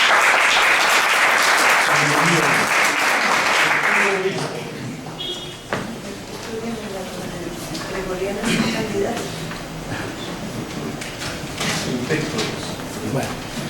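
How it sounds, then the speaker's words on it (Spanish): Audience applause at a university lecture, a dense broad burst of clapping lasting about four seconds before fading into a murmuring room, followed by someone speaking at a moderate distance. "Entonces le damos un aplauso"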